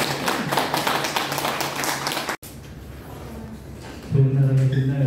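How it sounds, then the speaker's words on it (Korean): Welcoming applause from an audience at a Gunsan YMCA lecture, a dense patter of many hands clapping steadily for a couple of seconds, then a brief break and quieter room noise before a louder tonal sound takes over. "박수로 맞아주세요."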